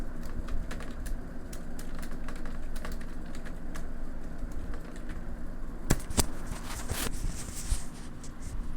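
Keys tapping on a computer keyboard while a note is typed into a Microsoft Access table, a steady run of light close clicks with a few sharper, louder strokes near the end.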